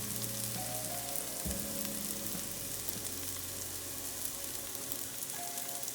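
Chopped, mashed garlic and onions fry in a pan for a spinach mushroom quiche, a steady close hiss of sizzling oil that runs unbroken throughout with a faint low hum beneath.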